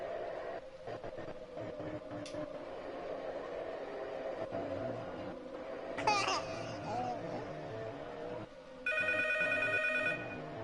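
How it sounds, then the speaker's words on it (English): Telephone ringing in the P.T. horror video game, a few electronic ring bursts over a low ambient hum and game sounds, growing louder toward the end. "The phone should ring now."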